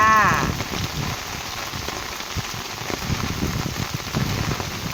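Heavy rain pours steadily outdoors, a dense continuous hiss of drops striking surfaces, loud and unbroken throughout.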